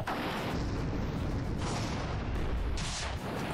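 Cannon fire from airships in the strategy game Airships: Conquer the Skies makes dense, rumbling booms that run together loudly and continuously, with no voices.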